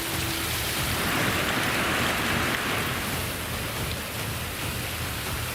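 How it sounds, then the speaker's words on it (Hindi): Torrential monsoon rain pours down steadily during flooding in Nepal and Bihar, a dense, continuous roar of heavy downpour close by, with no voices. "ऊपर से तबाही मूसलाधार बरस रही है।"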